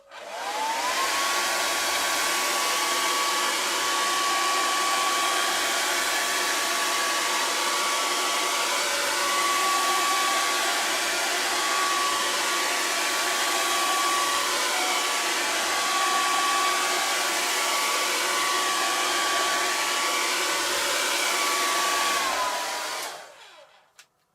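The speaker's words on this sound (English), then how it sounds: "Maybe I'll just give it a quick burst with a hairdryer." A hair dryer blows steadily for over twenty seconds, loud and close, with a constant high whine over the airy rush before it cuts off.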